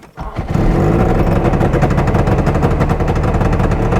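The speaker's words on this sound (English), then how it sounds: "I didn't set the idle that high, it's just running lean." Trabant two-stroke engine idling high and running lean, a loud, steady, buzzy rattle close by that catches after a brief start and then holds its rapid pulsing for several seconds.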